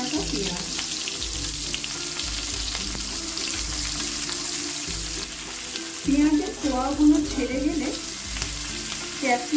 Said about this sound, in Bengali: মাছ ভাজা তেলের মধ্যে দিয়ে দেবো একটু ডুমো ডুমো করে রাখা পেঁয়াজ